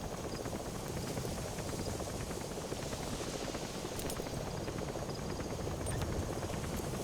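Pequod support helicopter from Metal Gear Solid V: The Phantom Pain arriving at a landing zone, a steady dense rotor roar holding loud and even throughout.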